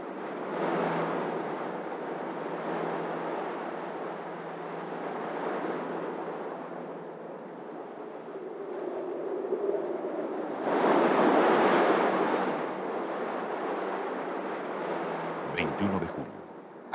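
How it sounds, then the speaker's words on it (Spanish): Open ocean in the Drake Passage heard from a ship at sea, a steady broad roar of waves and wind with a louder surging gust midway and a brief knock near the end. "el gran océano hace sentir su presencia"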